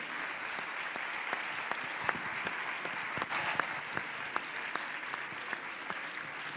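Crowd applause at a sports gala in Béjar, a sustained even clapping with sharp individual claps standing out, heard from a short distance with no talk over it.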